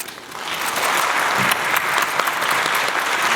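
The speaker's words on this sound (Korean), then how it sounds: "여러분 큰 박수 한 번 부탁드리겠습니다" A theatre audience applauds during a musical's stage greeting, a thick, loud wash of clapping swelling after a soft start and holding steady.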